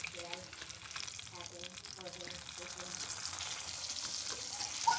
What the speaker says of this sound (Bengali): মাছগুলোকে আমি একদম লাল লাল করে ভেজে নিয়েছি আর তুলে নিচ্ছি আমি একটা একটা করে।